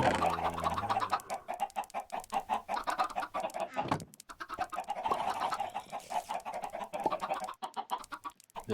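Chickens in the video game Minecraft cluck in a dense, continuous flurry of short bursts, several birds overlapping at close range with no talking.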